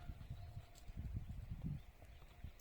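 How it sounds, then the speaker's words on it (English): Wild horses walking along a quiet mountain village street in the Rhodope mountains of Bulgaria, their hooves making soft, irregular clip-clops at a moderate distance. "Wild horses, divi kone, as the guy said."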